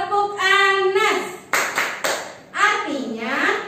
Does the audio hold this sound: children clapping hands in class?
yes